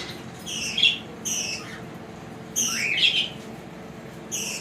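Caged budgerigars chirp and squawk in short, bright bursts that repeat every second or so against a low indoor hum, close by and with no talk.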